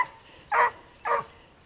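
Beagles barking at a Christmas tree farm: two short, sharp barks about half a second apart, fairly close and clear over a quiet outdoor background.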